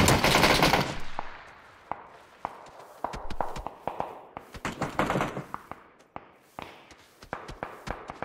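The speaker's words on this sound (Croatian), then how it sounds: "A oni ih sad pucaju." PUBG battle gunfire, a loud close burst at the start, then many sharp scattered shots and short volleys, some near and some more distant, with footsteps faintly in between.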